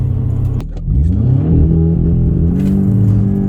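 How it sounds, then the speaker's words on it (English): An Audi S3 Saloon 8V with a Stage 1 tune accelerates hard from inside the cabin, its engine note dipping briefly and then climbing steadily in pitch as the revs rise, loud and close with no talk. "You are pushing the hell out of this car."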